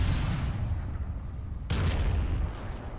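Naval guns fire in the warship video game Battleship Command. A heavy, rumbling barrage of booms plays loud throughout, with a sharp new blast partway through and a low, sustained roar.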